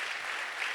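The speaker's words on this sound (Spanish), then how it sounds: "Dale ese aplauso al Señor." A church congregation applauds during a sermon, a brief, steady burst of clapping heard fairly quietly.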